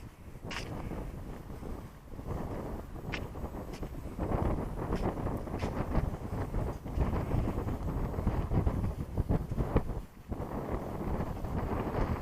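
Blustery wind gusts steadily across the open Dnipro riverbank in Zaporizhzhia, buffeting the microphone with broad rumbling noise for the whole stretch, with no voices.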